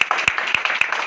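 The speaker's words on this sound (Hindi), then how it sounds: "एक बार प्रभु यीशु मसीह के नाम को हम ताली बजा देंगे" A congregation at Bethel Prayer House in Ludhiana claps in a steady rhythm, about four sharp claps per second, close and clear over a sustained tonal backdrop.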